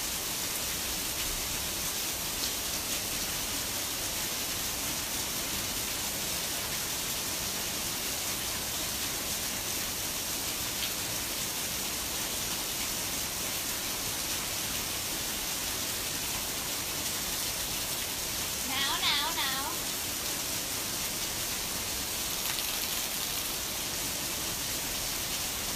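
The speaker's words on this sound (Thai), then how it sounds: "ฝนตกหนักชอบมากเลยนะคะ" Heavy rain falls in a steady, dense hiss that stays even and continuous throughout, with a brief faint voice-like murmur partway through.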